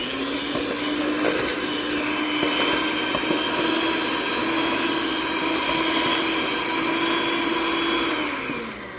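A steady, loud electric mixer whirs continuously through maple walnut cake batter, its motor holding one even tone for several seconds before winding down near the end.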